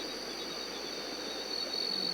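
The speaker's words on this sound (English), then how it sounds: "I hear frogs and insects and birds" A steady, dense chorus of insects chirping at night in Peru, a constant high trill with no pauses and no voices.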